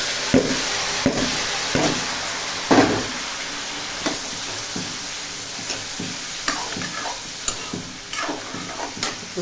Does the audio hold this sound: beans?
yes